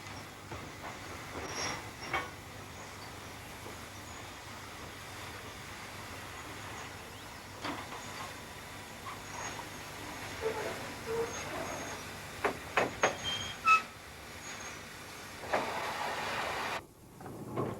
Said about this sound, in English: the freight train on the other track must move so that the passenger train engine can run round